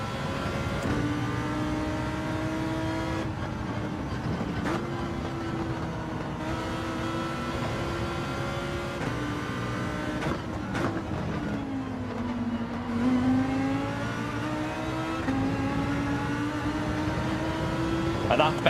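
A Ferrari race car engine in Gran Turismo 7 on the Fuji circuit drones steadily, its pitch rising and dipping through gear changes, while a person talks over it.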